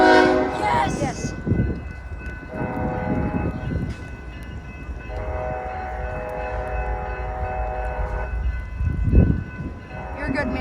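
A train passes a rail crossing in Edmonds during wind and rain, its horn sounding in long sustained blasts near the start and again later over the steady rumble of the passing cars.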